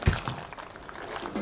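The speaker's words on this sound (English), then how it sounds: "sounds of stirring pasta." Cooked spinach ricotta pasta is stirred with a splash of reserved pasta water, giving soft, wet squelches and sloshes, quiet and close, with a brief thump at the start.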